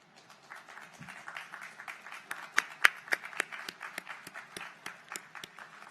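Applause at a university commencement ceremony for graduating honors undergraduates, as families rise: steady, moderately loud clapping from a crowd, with a few sharper individual claps standing out, continuous throughout.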